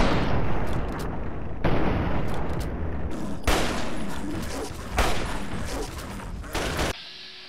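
Heavy gunfire and explosive blasts in the video game Fallout 3, dense and loud for about seven seconds with several sharp bursts, then cutting off abruptly.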